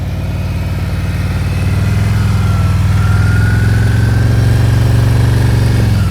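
A motorcycle engine runs loud and close at low, steady revs during slow-speed riding practice, with a continuous idle-like throb that rises slightly and holds.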